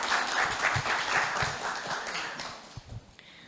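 Audience applause at a public conversation event with former city councillors in Porto Alegre, a dense round of clapping that holds steady, then thins and fades toward the end with a few louder isolated claps.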